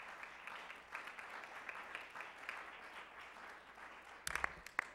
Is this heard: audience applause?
yes